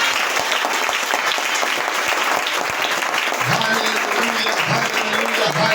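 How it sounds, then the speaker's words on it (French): A congregation in a church service claps and cheers loudly and continuously, with voices shouting and rising in acclamation over the steady applause in the second half. "Donnez-moi l'acclamation pour ça."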